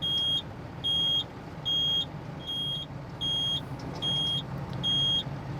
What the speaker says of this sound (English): then of course we'll go down with the scissor lift